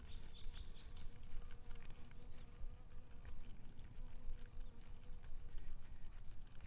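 Bees buzz around open pumpkin flowers in a garden, a faint, steady insect drone over outdoor background noise, with a brief closer buzz passing near the start.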